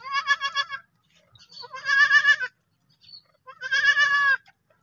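A baby goat bleats three times up close, each cry a loud, quavering call lasting about a second, with short quiet gaps between them and no talking.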